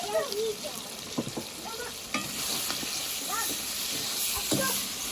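Tomatoes tipped into pork ribs frying in a cauldron over a grill, setting off a steady sizzle and hiss with scattered stirring clatter; a voice speaks faintly now and then.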